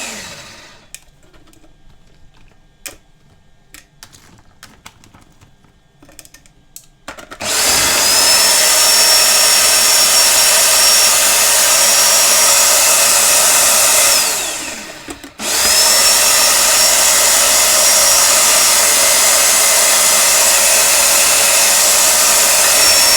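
Food processor whirring through sofrito ingredients, a loud steady motor roar that starts after a quieter stretch of small clatters, cuts off briefly and then resumes at full strength, close by.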